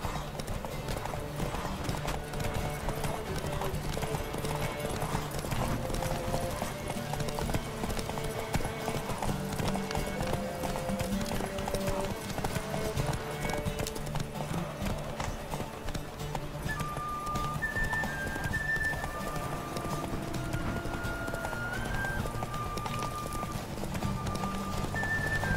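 A horse gallops in a race in the game The Witcher 3: Wild Hunt, with rapid steady clip-clop hoofbeats throughout, close and continuous, layered with background music.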